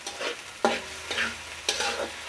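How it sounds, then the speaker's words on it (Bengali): Onion paste is stirred into chicken frying for morog polao, making three or four rough scraping bursts of stirring over a steady sizzle, close and moderately loud. "পেঁয়াজ বাটা দিচ্ছি 2 চামচ, 4 টেবিল চামচ মিক্স করে নিচ্ছি।"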